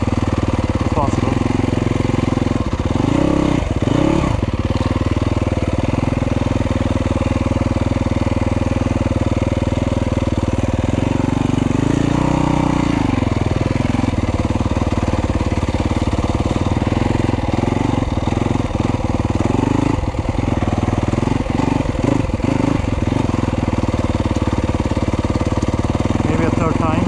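A Yamaha YZ250FX dirt bike with a very light flywheel runs loudly and continuously in the woods, its engine climbing through several quick rev rises and falls, with the longest surge near the middle.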